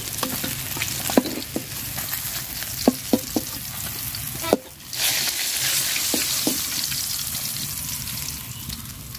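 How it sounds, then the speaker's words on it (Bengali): Pangas fish frying in oil with a steady crackling sizzle, punctuated by several sharp utensil clinks and a brief pause midway. "মাছ কররা করে ভাজা নিচ্ছি আমি"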